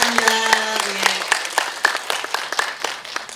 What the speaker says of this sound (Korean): 다 같이 한번 박수 치겠습니다